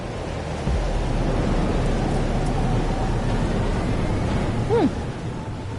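Steady rain in a storm in the video game Life Is Strange Double Exposure, a broad constant hiss with a low rumble starting early, plus a short tonal chirp near the end.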